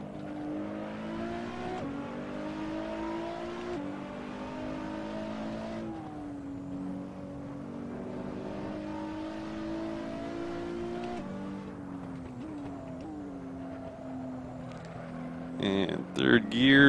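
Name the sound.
street car engine accelerating in Assetto Corsa video game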